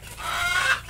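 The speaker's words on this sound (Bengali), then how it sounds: "মুরগি আছে আর একটা মোরগ আছে।" A flock of hens with one rooster gives a single drawn-out, raspy cluck or squawk lasting under a second, close and moderately loud against a low background hum.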